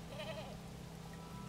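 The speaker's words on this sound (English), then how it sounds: "sheep, go back. Sheepies." A sheep bleats once in the video game Dragon Creek, a short wavering call over a low, steady game soundtrack hum.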